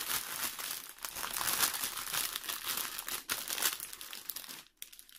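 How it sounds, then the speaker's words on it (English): Plastic packaging from a diamond art kit crinkles and crumples continuously up close during unboxing, with brief pauses near the end; no one speaks. "Sorry about the crinkle."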